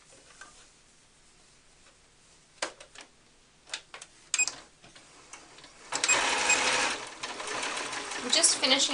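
Sewing machine running a seam on a doll's blanket layer, preceded by sparse clicks and taps, then a sustained whirring run of stitching near the end, fairly close.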